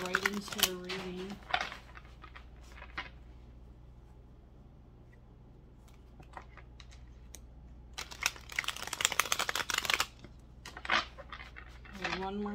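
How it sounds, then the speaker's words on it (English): Tarot cards shuffled during a reading, with soft papery riffles and crinkly bursts at the start and again toward the end, separated by a quiet stretch with a low steady hum. "I'm just going to shuffle the cards three times"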